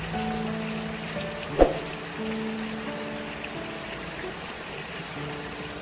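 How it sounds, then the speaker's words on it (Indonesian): Heavy rain pours in a constant close hiss over a city, with a single sharp knock near the start and faint steady tones beneath. "hujan mulai turun deras, menyelimuti kota dengan kabut tipis yang membuat segalanya tampak lebih sunyi"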